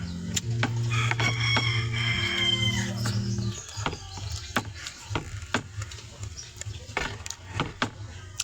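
Chickens on a Philippine backyard farm, with a rooster crowing in a long drawn-out call near the start, followed by scattered clucks, pecking taps and short clicks at moderate distance.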